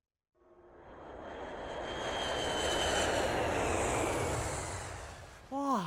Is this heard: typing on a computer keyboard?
no